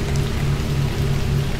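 Steady rain falling in the horror game Bunker 16, a continuous even hiss over a low droning hum, heard alone with no voices.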